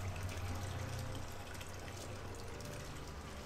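Steady shower water runs continuously in Amnesia: The Dark Descent, a constant broadband hiss with low rumble, fairly quiet and even throughout with no talk.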